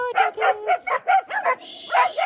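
A small group of dogs barks in quick repeated bursts, about eight sharp yips and woofs in just over two seconds, fairly close and loud, heard in a hillside village on the Amalfi Coast at Christmas time in December.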